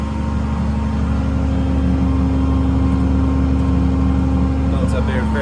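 A 2007 Peterbilt 335 with a Cat C7 diesel raised to a high idle to drive its air compressor, giving a steady, loud, continuous engine drone with a mechanical whir throughout.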